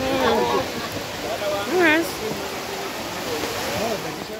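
Steady rain falls outside a cabin where people shelter, a constant broad hiss with a brief louder swell near the middle, while voices and calls carry faintly over it.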